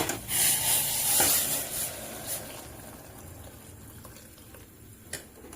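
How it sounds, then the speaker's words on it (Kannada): Water poured into a pan of boiling ground masala for tomato bath gives a steady splashing hiss for the first couple of seconds, then settles into a quieter bubbling simmer. "ಇದಕ್ಕೆ ನಾವು ನೀರನ್ನು ಹಾಕೊಂಡ್ಬಿಡೋಣ"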